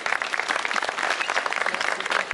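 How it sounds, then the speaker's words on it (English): Audience applause at a literature festival, a dense wash of many hands clapping steadily at close range, sustained without a break. "A huge round of applause for that."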